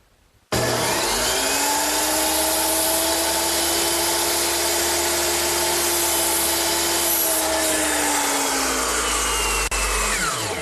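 A power saw with its blade tilted to a 13-degree bevel cuts 2x4 roof rafters to a mark, a steady, loud whining drone that holds for about ten seconds and then spins down, with no one talking.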